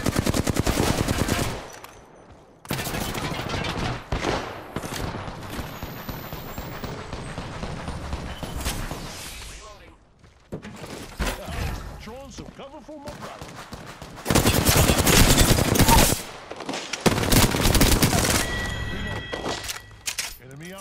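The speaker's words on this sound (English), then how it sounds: "I am taking fire, friends." Machine-gun fire directed at the player in a video game comes in several long rattling bursts separated by short gaps. A voice speaks between and over the shooting.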